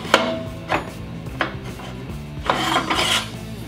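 Solid round steel bars slide into a WeldTables fab brake kit, giving a series of close metallic scrapes and clanks at an irregular pace. No one talks.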